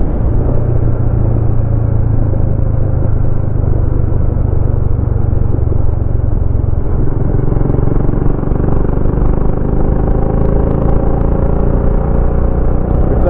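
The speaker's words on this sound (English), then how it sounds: "If that exhaust sounds louder, it's because I got the baffle out of it." A motorcycle on the Transamerica Trail rides with the exhaust baffle removed, giving a loud, continuous, close rumble of engine and exhaust with road clatter underneath.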